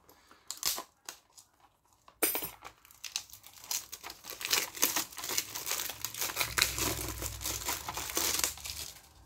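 Plastic wrap crinkling and tearing as it is stripped off a Blu-ray case, with scissors at hand; close, irregular bursts of crackling begin faintly, then turn into a busy run of sharp crinkles.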